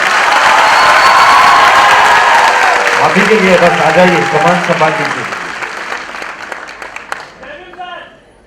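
A music launch audience bursts into loud, dense applause that rolls steadily, then a voice takes over through a microphone as the clapping thins and fades away.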